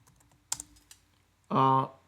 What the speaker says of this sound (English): all I have to do is type uname on the Linux side